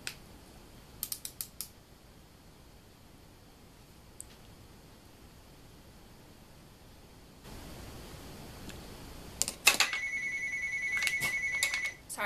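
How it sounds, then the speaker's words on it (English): A telephone rings in a quiet room, giving a few short bursts early, then a louder run of repeated electronic ring tones near the end over faint background hiss. "my phone won't stop ringing"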